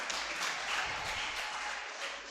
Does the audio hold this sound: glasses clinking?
no